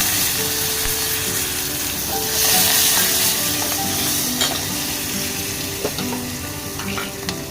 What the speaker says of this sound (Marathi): आता मी टाकते कढीपत्ता